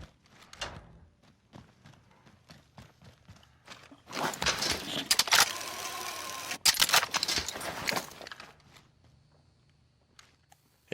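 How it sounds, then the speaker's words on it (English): Footsteps in the video game Call of Duty Warzone: scattered soft steps, then a louder burst of rapid scuffing movement in the middle before fading back to faint, sparse steps. "as soon as I get down the elevator, I'm greeted with footsteps"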